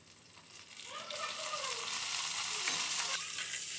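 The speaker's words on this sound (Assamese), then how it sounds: "আৰু এতিয়া ইয়াত দিম মই তিয়াই ৰখা থেকেৰা টেঙাখিনি।" Soaked dried garcinia slices drop into a simmering fish curry in a pan and are stirred through, giving a steady close sizzle with scraping, stirring movements that swell slightly partway through.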